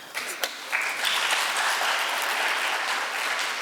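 A debate audience bursts into steady applause, a wash of many hands clapping at moderate distance, continuing evenly throughout without speech.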